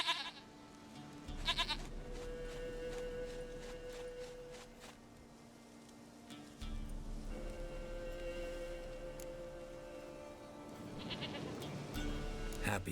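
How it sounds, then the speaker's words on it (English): Goat bleating in a video game, a few short bleats spaced across a quiet, softly humming backdrop with faint rain-like hiss, fairly close and clear. "Goat of mine, dearest,"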